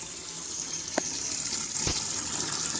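Tap water running in Barangay San Jose Rodriguez, Rizal, a steady close gush with a couple of faint knocks, no talking.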